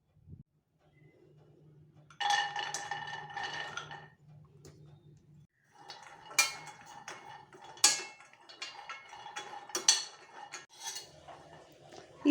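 Almonds dry-roasting in a heated pan over low flame, with a soft rattling scrape and clinks of a utensil against the metal in uneven bursts, close by, with no talking.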